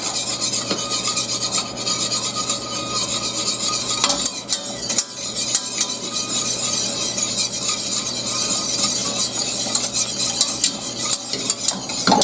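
Thick lemon meringue pie filling bubbles and sizzles in a pot while a utensil scrapes and stirs continuously, a busy rasping sound close up.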